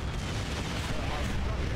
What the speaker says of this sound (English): All of them just fired their rockets into a tree.